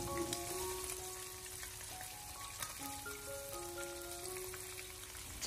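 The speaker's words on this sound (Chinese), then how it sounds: "这一面也是同样的小火慢煎2到3分钟，把鸡腿煎至两面金黄色" Chicken thighs pan-frying on low heat for black pepper chicken, a soft steady sizzle with light pops, faint and even, with background music tones running underneath.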